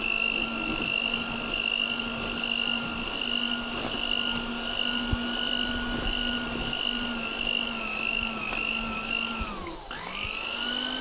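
A KitchenAid stand mixer churns mascarpone at speed 1, giving a steady, close motor whine with a constant hum and faint tapping of the beater, briefly dipping in pitch near the end.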